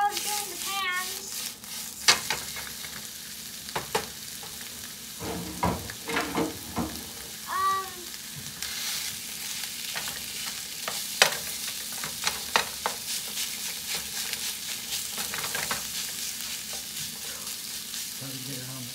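Pizza sauce sizzles steadily in a pan while being stirred, with scraping spoon strokes and clicks; brief voices and kitchen noises come and go nearby.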